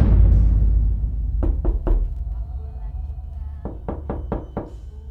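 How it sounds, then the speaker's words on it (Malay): Knocking on a bedroom door at night, two quick sets of three to four sharp raps separated by a pause, close and distinct over a low rumbling background. "tiba-tiba pintu bilik dia diketuk"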